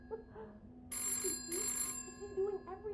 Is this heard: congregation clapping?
no